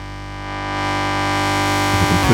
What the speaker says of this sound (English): If we can push that distortion up, drive up, get a noticeably more gnarly effect coming through there.